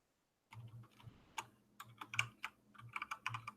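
Quiet typing on a computer keyboard: irregular clusters of soft, close key clicks after a brief silence, with no voices.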